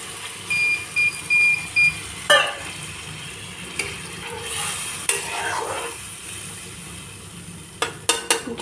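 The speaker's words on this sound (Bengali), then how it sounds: "এখন হালকা করে একটু জল দিব" Water goes into a pan of fish curry, which is stirred over the heat with soft scrapes and clinks against a low, steady sizzle, a few sharper knocks near the end.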